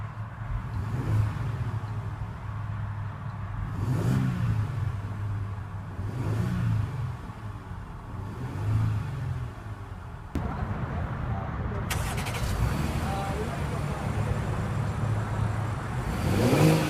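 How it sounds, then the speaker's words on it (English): A 2014/2015 Audi Q7 3.0T supercharged engine idles, then revs in four evenly spaced blips that swell and fall back, heard from outside at moderate level, followed by a brief rustle and idle. "let's give it a few revs and see how it sounds."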